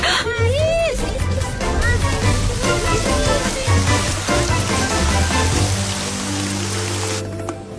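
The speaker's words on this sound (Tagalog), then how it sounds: "Umuulan na." Steady rain patters on a surface throughout, a dense hiss of drops, while voices speak and call out over it.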